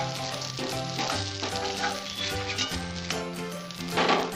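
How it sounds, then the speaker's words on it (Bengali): Prawns fry in hot oil in a pan, giving a steady close sizzle with crackling pops and no speech. "মাছগুলো ভাজতে আমার 2 মিনিট টাইম লাগবে"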